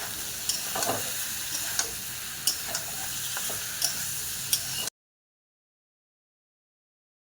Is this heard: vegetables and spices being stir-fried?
yes